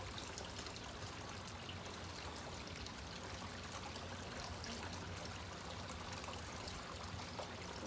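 Water flowing in an outdoor fountain running on a new replacement pump: a steady, even splashing and trickling that continues unbroken throughout, with no voices.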